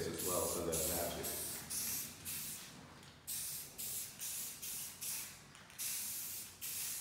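Spray paint hissing from an aerosol can in a series of short bursts of varying length, the first one louder and longer, later ones repeated with short gaps between them.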